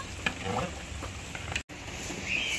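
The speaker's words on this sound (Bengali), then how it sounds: "দেবো হলুদ গুঁড়ো। নাড়িয়ে চাড়িয়ে নেব।" Khichuri with rice, salt and turmeric powder being stirred in a pot, a close soft scraping and swishing over a steady sizzling hiss, broken by a split-second dropout.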